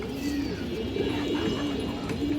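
A lively, roughly hand-sized pigeon coos among a loft of domestic pigeons, low throaty rolling calls repeating over a constant background hum of more birds nearby.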